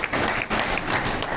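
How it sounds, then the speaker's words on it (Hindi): Brief burst of steady clapping from a seated audience at a BJP political gathering in Ghaziabad, dense and fairly loud with no speech over it. "आदरणीय सुनील जी भाई साहब के लिए भी जोरदार तालियां और स्वागत होना चाहिए"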